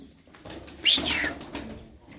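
A pet bird in a breeding cage beats its wings in one short, close flurry of flapping, fairly loud against a quiet room with no talk.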